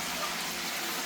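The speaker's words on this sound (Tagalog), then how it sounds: "Para raw hindi magtilansik, lagyan mo raw ng tubig." Water is poured into a hot pan of frying pork belly for lechon kawali, giving a steady, loud broadband hiss and sizzle with no pauses.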